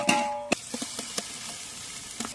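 Onion and chilli frying in oil for a large village-style chicken biryani, quiet sizzle punctuated by several sharp clacks of a spoon or ladle against the pot, close up.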